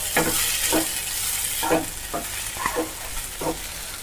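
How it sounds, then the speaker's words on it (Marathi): Soaked poha (flattened rice) is added to a pan with onions and stirred: a steady frying sizzle runs underneath about six rhythmic scraping stirs, close and loud. "ते भिजवून घेतलेले पोहा टाकते"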